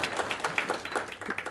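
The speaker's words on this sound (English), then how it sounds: "A round of applause for them" Audience at a public health event applauding, a brief, dense patter of many hands clapping at moderate distance and fairly faint, with no talk over it.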